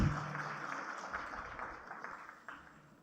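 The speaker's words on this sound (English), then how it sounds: "Let us give him a big round of applause" Audience at a university convocation clapping, a faint, fairly distant wash of many hands that slowly fades over a few seconds.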